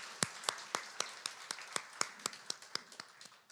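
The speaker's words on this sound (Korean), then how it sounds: "우리 하나님께 영광의 박수 올려드리겠습니다." Worshippers at a Sunday church service clap in a steady, even rhythm, about four crisp claps per second sounding close and clear over a quiet background.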